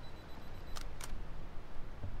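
A Canon 50D crop-sensor DSLR fires its shutter for a 1/13 s exposure on a 2-second timer outdoors on a windy day: two crisp mechanical clicks a quarter second apart over a steady low background rumble.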